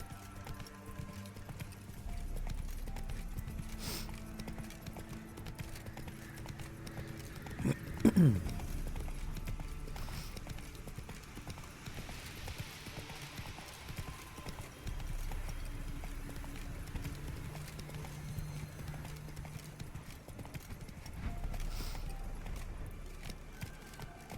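Roach, a horse in The Witcher 3, galloping with a steady rhythmic clip-clop of hooves, a brief whinny partway through, over a low ambient bed.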